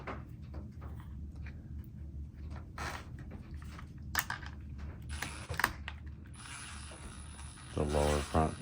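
Small metal stud being screwed by hand into a link mount on an Axial Mini Capra 1/18 scale RC rock crawler, giving a run of faint, fine ratcheting and clicking mechanical ticks, close up, with a slightly louder burst toward the end.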